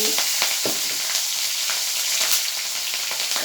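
Whole cumin, a few nigella seeds and torn green chili sizzle in hot oil, tempering for a hilsa-head and bean-seed dal: a close, continuous crackling fry with brief stirring scrapes, and no one talking.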